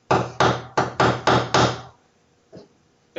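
A neighbor hammering nearby: six sharp, evenly spaced blows in quick succession, loud and close, then a pause and a fainter knock, with no talking.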